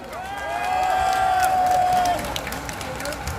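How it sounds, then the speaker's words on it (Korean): A crowd at an outdoor political rally in Gumi applauds and cheers as a speaker is welcomed, swelling loudly then easing off, with a whistle-like tone and people talking over it. "큰 박수로 모시기 바랍니다."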